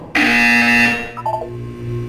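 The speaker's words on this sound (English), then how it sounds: "When you hear the buzzer, look down at the floor." Buzzer in the Portal 2 video game: one loud, sustained electronic tone that cuts off after about a second, followed by softer synthetic game sounds, with no talking.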